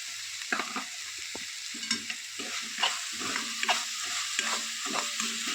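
Tamarind flower vegetable is stirred in a pan, giving repeated spoon scrapes and clatters over a soft, continuous sizzle of frying, fairly quiet and close.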